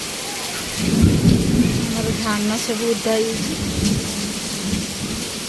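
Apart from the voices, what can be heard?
heavy rain with thunder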